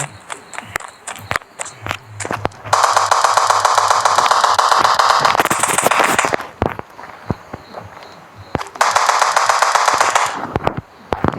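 Gunfire in the Indian Bike Driving 3D video game comes in loud, sustained automatic bursts, with single sharp shots and footstep-like thuds between the volleys.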